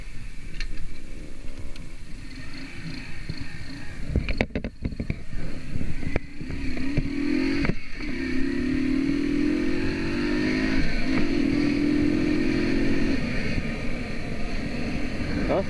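A Skyteam Classic 50 paramotor engine runs steadily and close by, its droning buzz shifting slightly in pitch, with brief rattling knocks early on and no talk over it.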